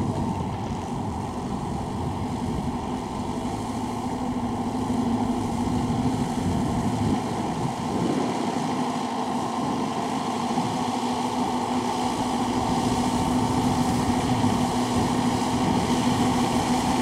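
Walking tractor engine with a 4 Turbo head running a 2-metre tiller, a steady loud mechanical drone with a constant hum throughout, no talk.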